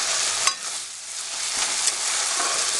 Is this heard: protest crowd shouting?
no